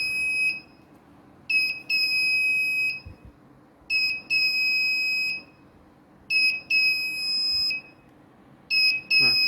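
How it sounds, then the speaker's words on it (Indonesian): An Arduino-driven piezo buzzer sounds a shrill, high electronic tone in repeated pulses, each burst made of quick stuttering beeps followed by a sustained note, then a brief gap before the next. "Nah, jadi percobaan menggunakan buzzer telah selesai."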